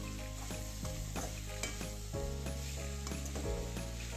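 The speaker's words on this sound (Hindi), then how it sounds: "सारे आलू इसमें डाल लेंगे और अच्छे से इसको मिला लेंगे" Mashed potatoes stirred into a sizzling pan for samosa filling, with steady frying hiss and a series of spatula scrapes and knocks against the pan, close and fairly quiet.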